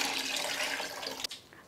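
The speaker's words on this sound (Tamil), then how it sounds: "மிக்ஸி ஜார்லேயே 1/2 கப் தண்ணி சேர்த்து ஊற்றிக்கலாம்." Water splashes and pours steadily into a mixer jar for over a second, then cuts off with a brief clunk near the end.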